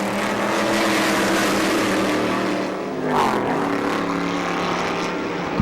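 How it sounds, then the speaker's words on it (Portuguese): Stock Car race car number 74, driven by Popó Bueno, races past during a 2008 race in Brasília, a loud sustained engine roar that swells briefly as it goes by, with no talk. "Carro do Popó Bueno, que passou aí número 74 que você viu."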